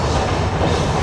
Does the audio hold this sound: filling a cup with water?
no